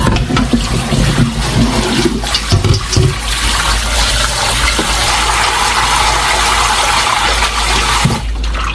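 Soaked vegetables, bracken, bellflower root and young cabbage greens, are rinsed under a strong stream of running tap water that rushes and splashes steadily, loud and close, with no talking.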